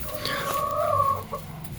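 Backyard hens in a garden coop cluck steadily in a soft, continuous murmur of close, warbling calls with no talking.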